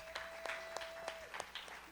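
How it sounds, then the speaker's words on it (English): At a community storytelling showcase, a small audience gives a faint, sparse round of applause: scattered individual claps in an irregular rhythm, heard from a distance with a faint steady tone beneath. "So can you give them a round of applause?"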